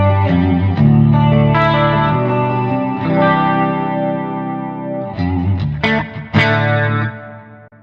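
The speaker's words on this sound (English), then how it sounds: "This is a normal chorus. Stereo chorus you can immediately hear" Electric guitar through a Zoom G3X HD multi-effects unit with stereo chorus, sounding as a shimmering, slightly distorted series of strummed chords and single notes that ring out and fade over several seconds.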